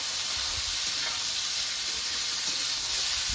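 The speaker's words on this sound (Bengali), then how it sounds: "পেঁয়াজের মধ্যে আলুগুলো দিয়ে দেবো আলুগুলো দিয়ে দিয়েছি এবার একটু নেড়ে চড়ে নেবো" Potatoes with onions frying in a pan, a steady loud sizzle and hiss throughout with faint stirring scrapes underneath.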